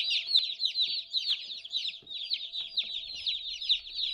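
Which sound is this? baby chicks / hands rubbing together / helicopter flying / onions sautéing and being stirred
baby chicks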